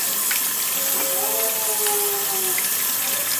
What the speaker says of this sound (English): now I'll run my hands in the faucet